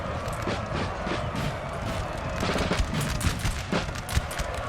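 Massed musket volleys crackle in the Napoleonic battle game Napoleon Total War, a dense, continuous rattle of overlapping gunfire with rising and falling bursts throughout.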